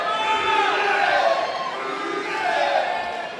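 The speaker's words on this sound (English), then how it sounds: "the partisan crowd showing their support for Damien Rooney" A partisan crowd at a Cage Warriors MMA event cheers and shouts in support of a fighter, rising in loud swelling waves with voices mixed through the roar.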